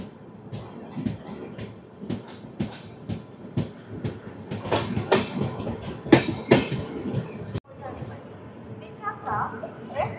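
Tirupati AC Double Decker Express (22707, Visakhapatnam–Tirupati) running at night, a steady rumble with rhythmic clacking and sharp rattles of carriages, loudest midway before dropping off; a voice talks over it.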